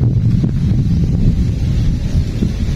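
Steady, loud wind buffeting a microphone, a constant low rumble with gusty fluctuations throughout, no voices.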